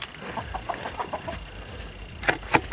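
Chickens clucking around a broiler coop under construction, a run of soft rhythmic clucks followed by two sharper, louder calls near the end, with no talking.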